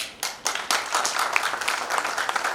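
An indoor audience in Udaipur claps for Manoj Tyagi at a seminar, a burst of many hands that starts scattered, swells into steady applause and continues close and even throughout.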